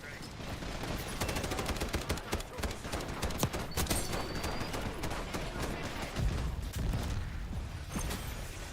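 Gunfire in the shooter game Snowbreak, rapid bursts of dense crackling shots in quick succession, loud and continuous throughout with short pauses and mechanical clicks, without talk.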